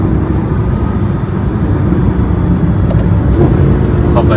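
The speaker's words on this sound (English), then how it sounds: "Love those downshifts." A Mercedes-Benz SLS AMG with a naturally aspirated 6.2-litre V8 rumbles loudly while downshifting, a deep, continuous engine roar heard up close that rises slightly near the end.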